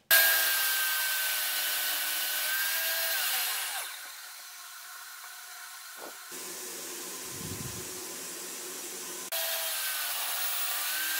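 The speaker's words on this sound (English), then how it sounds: "So now we're gonna make a test cut." Test cut through wood on a DeWALT DWE7492 table saw set for a raised panel: a loud, steady whining cut that drops lower partway through, then the motor spins on alone.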